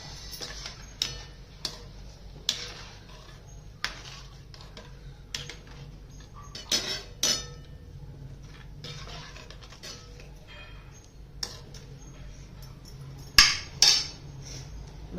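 In a home kitchen while green chana curry is cooked, a mixer grinder jar is handled, giving sparse, sharp clinks and knocks at irregular moments over a quiet background, with no talking.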